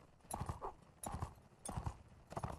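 Horse hooves clip-clop in the Mount & Blade Warband video game, a steady, fairly loud rhythmic trot of repeated hoof beats with no talk over it.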